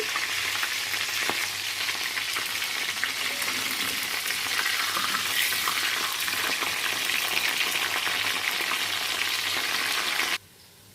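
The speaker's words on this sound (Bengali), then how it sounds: "গাজরগুলো ভাজা হয়ে গেছে, একই রকমভাবে আমি বিনসগুলো ভেজে নেব।" Green beans fry in a pan with a steady, dense sizzle that holds for about ten seconds before cutting off sharply near the end; no voices are heard.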